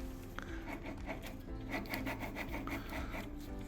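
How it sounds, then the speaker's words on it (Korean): A steady, gritty grinding rumble of a mountain bike hub bearing spinning close by, with rhythmic rasping pulses and no talk. "베어링 소음이 좀 있는 것 같은데"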